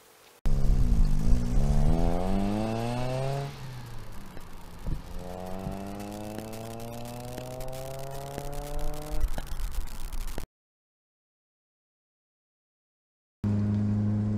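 A 1980s first-generation Toyota MR2 being driven, its engine revving up through the gears in rising harmonic sweeps, with shifts between climbs and a steady drone at speed, close and loud with no voices.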